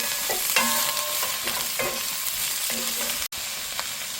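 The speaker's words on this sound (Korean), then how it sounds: "이렇게 볶다가 반 정도 익었다 싶을 때 이제 대파 넣어서 살짝 더 볶아주시고요" Korean blood sausage (sundae) and green onion stir-fried in a pan, a steady sizzle broken by several scraping stirs of a spatula against the metal, close and continuous with no voices.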